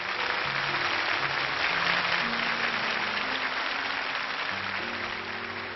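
A studio audience at a 1998 French TV variety show applauds steadily and evenly, with music playing underneath, throughout.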